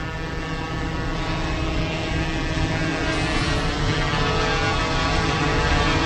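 A camera drone flying at a meetup in Kartepe after takeoff gives a steady, continuous propeller whine and buzz that holds level throughout, loud and close, with no talking.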